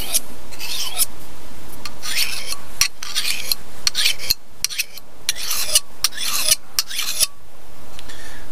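A hand-forged hook knife blade is sharpened on a stone at a bushcraft camp, with loud, close rasping strokes repeated in a steady back-and-forth rhythm and brief pauses between passes.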